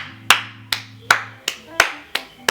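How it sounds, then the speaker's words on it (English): Seven sharp, distinct hand claps come at a steady, moderately spaced rhythm, close and clear, with a faint low hum between them. "you deserve a round of applause"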